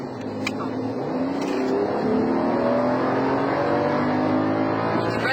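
A 2011 BMW X6 downshifts and accelerates hard, its engine note rising steadily in pitch from close inside the cabin, loud and continuous with no talk.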